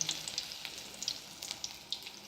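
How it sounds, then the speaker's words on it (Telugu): Kurnool-style chilli bajji fritters in batter sizzle and crackle in hot oil, a soft close frying hiss with scattered pops and no talking. "చూసారా ఇలా వేసేసుకున్న ఆయిల్లో మన బజ్జీ రెడీ అయిపోతుంది"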